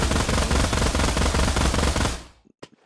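P90 submachine gun in the video game Pavlov Shack fires one sustained, rapid automatic burst for about two seconds, loud and close, then cuts off, followed by a few brief mechanical clicks.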